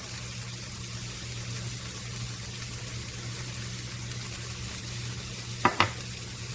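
Garlic frying in a pan for Cajun fried rice makes a low, steady sizzle with a constant hum underneath, broken by two quick utensil knocks near the end.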